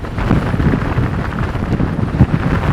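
Storm-force wind gusting at 67 miles an hour across the summit of Pen-y-ghent buffets the microphone, producing a loud continuous low roar with surging gusts.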